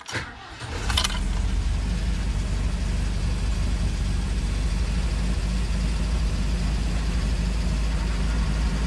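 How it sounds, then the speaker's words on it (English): Car engine idling steadily with the transmission in neutral and the clutch pressed in, a continuous low rumble close by after a brief clunk and jingle at the start. "You can hear the transmission. That's the transmission in neutral."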